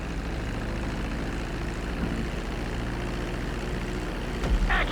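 Propeller airplane engine in GTA 5 flight school, a steady droning hum held evenly throughout, with a brief burst of higher mechanical noise near the end.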